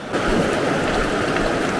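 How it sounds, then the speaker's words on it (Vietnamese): A forest stream flows in a steady broadband rush of water, loud and close, continuous throughout with no talk. "Dòng suối đây đẹp quá"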